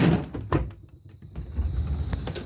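A drawer full of stuff and scrap slides open, a short wooden or metal scrape with knocks and clatter near the start and midway, followed by low rumbling movement of the contents close by.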